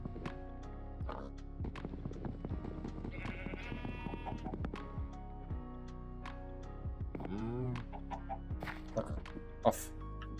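Minecraft sheep bleat in short, repeated calls alongside clucking chickens and light clopping steps, all fairly close and scattered across a busy game soundscape.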